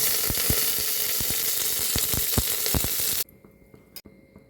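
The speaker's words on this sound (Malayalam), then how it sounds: "അതിലേക്ക് വെളിച്ചെണ്ണ ഒഴിച്ചതിന് ശേഷം കടുക് ഇട്ട് കൊടുക്കുക." Mustard seeds and curry leaves fry in coconut oil, a steady loud sizzle with sharp pops and crackles throughout that cuts off abruptly near the end, leaving faint clicks.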